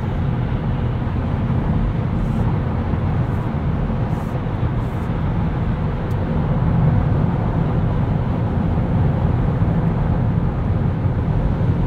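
Steady wind and road rush inside a 2023 Kia Niro Hybrid SX Touring cruising at speed, a constant broadband hum with low rumble and no break, plus a few faint high ticks early on.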